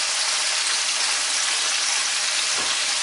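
Loud steady sizzling hiss of water poured into a hot pan with broccoli rabe, continuous throughout, with a brief low thump near the end.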